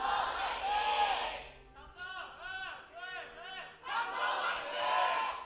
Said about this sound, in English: Samsung fans definitely trying to fight back by cheering as loudly as possible.